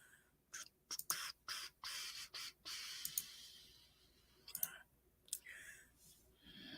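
A computer mouse button clicks in quick, sharp bursts, several in a row and then a few scattered ones, close and fairly quiet against a hushed room.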